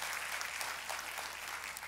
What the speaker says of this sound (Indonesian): tepuk tangannya paling meriah buat Tuhan kita